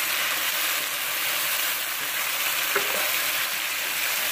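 Onions and tomatoes stirred in a hot karahi over a medium flame for Irani chicken karahi, a dense continuous sizzle and hiss with faint stirring scrapes, steady and close.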